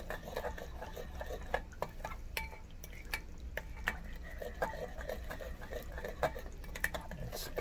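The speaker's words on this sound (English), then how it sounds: "We are stirring." A spoon stirring cheesecake batter in a bowl, with soft repeated scraping clicks against the sides at an uneven rhythm, faint and close.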